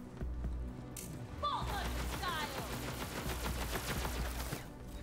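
Gunfire in the Borderlands 3 video game: a dense, continuous fusillade of rapid shots and bursts that runs throughout at a steady moderate level.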